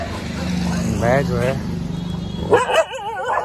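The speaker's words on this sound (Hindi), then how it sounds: "सब जगह कुत्ते कुत्ते हैं" A dog barks and whimpers on a street in Varanasi, with a few short harmonic yelps standing out while someone talks throughout and low traffic-like rumble sits underneath.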